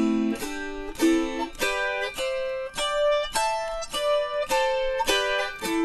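Plucked autoharp notes caught across too many strings at once, giving a series of about a dozen ringing, chord-like strums in a steady, stepwise melodic rhythm, close and clear with no talking.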